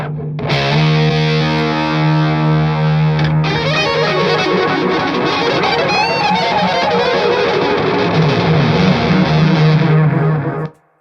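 An electric guitar plays through a delay effect with heavy distortion, sustained notes and chords ringing with repeating echoes, loud and alone, ending abruptly.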